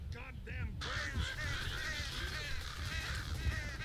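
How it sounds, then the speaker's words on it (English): Loud, dense squawking and honking from a flock of birds in Left 4 Dead 2, during the campaign The Sacrifice, continuing without a break across the whole stretch over low rumbling game ambience. "Shut up, you goddamn birds!"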